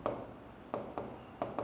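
Pen or chalk writing strokes during a Bengali maths lesson, scratchy rubbing runs broken by sharp taps at the start of each stroke, close and steady without any talk.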